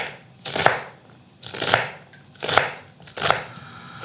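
Bell peppers, onions and celery are chopped with a knife, four evenly spaced, crisp thuds on a cutting board about a second apart, close and clear with no talking.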